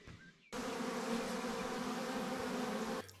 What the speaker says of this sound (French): comme vous pouvez le voir, c'est un petit essaim